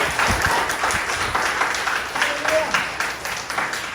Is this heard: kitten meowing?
no